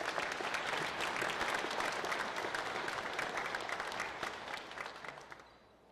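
An audience at a NASA Day of Remembrance event applauds in sustained, dense clapping that fills the room and then tapers off toward the end.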